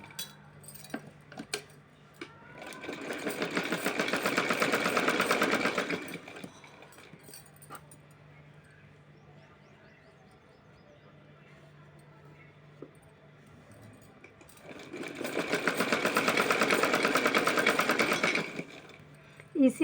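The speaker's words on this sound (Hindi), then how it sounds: "तो चलिए सिल लेती हूँ, फिर सिल के दिखाती हूँ" A domestic sewing machine stitches a folded fabric strip with lace trim for a small Laddu Gopal idol dress, running in two steady bursts with a quiet pause between, close and fairly loud.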